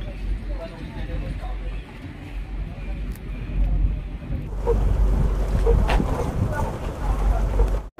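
A river launch cruising on the Ganges near Belur Math, its engine droning low under wind and water wash, growing louder and busier halfway through with some clatter, while people talk over it.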